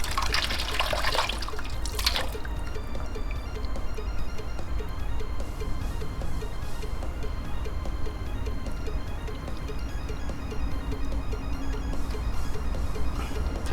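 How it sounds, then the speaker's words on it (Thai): Water poured into pork intestines to wash them for grilling, a steady close trickle and slosh of liquid that runs on without a break and with no talk. "วิธีการกับไส้ก็อย่างนี้ เติมน้ำใส่นิดนึง"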